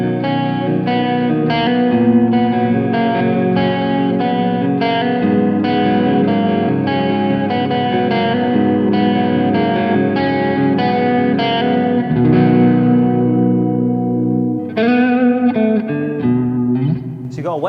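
A Tone City Heavenly Lake reverb and echo guitar pedal, played with a guitar: chords ring out with long reverb and echo tails over about eighteen seconds. A brief pause comes before a final strummed burst, with no talk.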